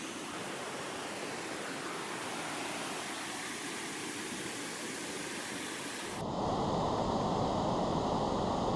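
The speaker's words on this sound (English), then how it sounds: "it shouldn't matter when I'm listening to the creek" Creek and waterfall flowing near a forest camp, a close, continuous rushing hiss of water with no breaks that grows slightly fuller and louder toward the end.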